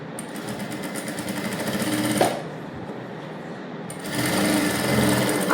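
A sewing machine stitches the neck of a princess cut blouse in two close, fast runs with a brief quieter pause between them.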